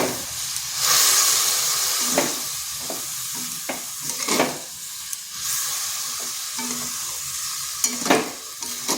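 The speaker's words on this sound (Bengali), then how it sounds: "প্রথমে দিচ্ছি হাফ বাটি দেওয়ার পর সিমাইটাকে একটু নেড়ে নিচ্ছি" Vermicelli (semai) is stirred with milk in a hot pan, making bursts of close, hissing sizzle and scraping between quieter pauses, with a few sharp clinks and no talking.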